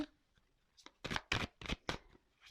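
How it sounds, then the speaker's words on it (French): Oracle cards are shuffled and drawn in a short run of about five crisp, riffling bursts after a quiet start, close and fairly loud with no talking. "je vais prendre une petite carte conseil"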